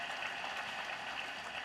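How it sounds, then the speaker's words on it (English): Applause from an audience at a mobile app launch event sounds as a faint, steady wash of clapping that lasts the whole brief moment. "give the guys a round of applause"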